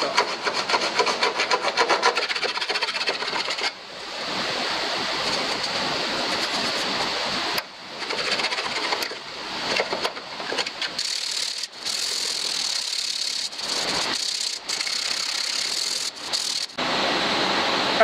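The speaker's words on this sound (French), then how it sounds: "C'est une râpe qui va gratter le" A hand rasp (écoineuse) scraping steadily across the metal body of an MGB GT during rear wing replacement, a continuous close-up grating rasp with short pauses between strokes.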